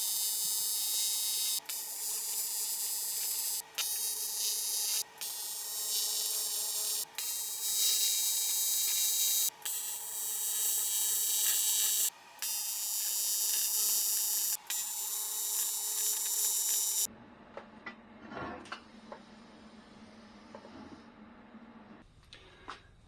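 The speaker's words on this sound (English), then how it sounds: "Maybe I might just show a bit of welding." Welding on an intake manifold for a Nissan Z32 300ZX twin turbo build gives a harsh, steady buzzing crackle in long bursts with short pauses between them, then stops, leaving faint workshop clatter.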